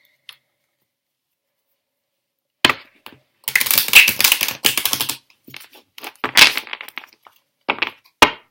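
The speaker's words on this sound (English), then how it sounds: "Just going to shuffle the cards." Tarot cards being shuffled by hand: after a quiet start come several bursts of close, rapid riffling and flicking clatter, each lasting a second or so, separated by short pauses, with no talk.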